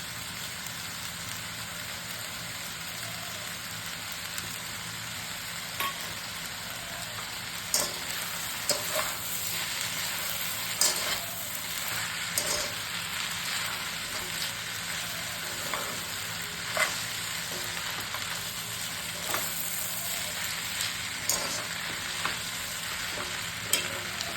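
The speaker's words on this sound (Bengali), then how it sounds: "এইটা মিক্সড করে দিচ্ছি, গোলমরিচ গুঁড়ো আর রোস্টেড জিরে গুঁড়ো" Black pepper and roasted cumin powder being stirred into noodles frying in a pan, a steady soft sizzle with scattered scraping clicks of the spatula throughout, alone with no voices.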